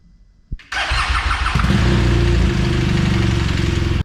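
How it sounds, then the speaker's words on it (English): A BMW R1200GS motorcycle engine in a workshop: a click, then the starter turns it over and it fires into a loud, close, steady idle that runs on evenly through the rest of the stretch. "We will now run our engine for about 30 seconds."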